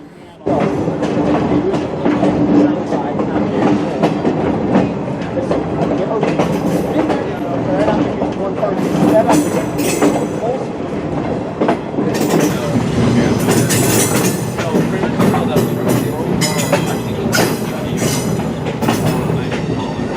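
A museum train rumbles steadily along the rails for the whole stretch, with rhythmic wheel clatter and occasional sharp metallic squeals, loud and close throughout.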